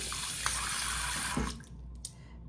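Tap water runs steadily into a plugged sink filling to about halfway for wet blocking a knitted cowl, a loud continuous broadband rush that cuts off near the middle, leaving a quieter tail with a faint clink.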